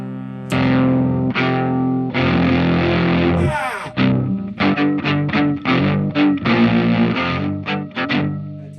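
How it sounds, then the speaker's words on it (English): An electric guitar plays through a saturated, sustaining fuzz pedal modeled on the Tonebender Mark II, with long ringing distorted chords, a brief squealing slide, then choppy rhythmic stabs, loud and close with no talking. "this is inspired by the Solo Sound Tonebender Mark II, a wild, saturated fuzz with lots of sustain"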